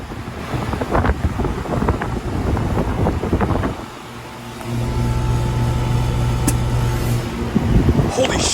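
A 1985 Comfortmaker Deluxe Energy Saver heat pump starts up outdoors: a windy, rushing wash gives way midway to a steady, loud compressor hum with a sustained tonal drone.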